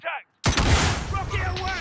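Gunfire in the video game Call of Duty Modern Warfare 3: a short voice, a brief silence, then a loud, dense burst of shots and blasts that rolls on with faint voice-like tones over it.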